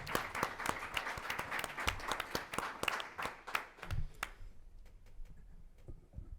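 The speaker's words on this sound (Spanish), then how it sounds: "quiero que recibamos a las tres con un fuerte aplauso." Scattered audience applause in a university philosophy faculty hall, individual sharp claps distinct and fairly close, fading to a sparse trickle of claps after about four seconds.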